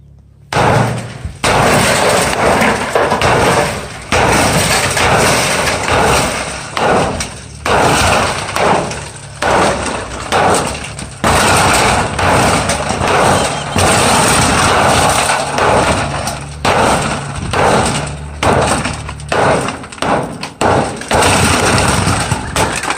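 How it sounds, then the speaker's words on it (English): A muscle hammer thumping in rapid, continuous pulses, loud and close, with brief pauses between bursts and no talk. "This is a muscle hammer."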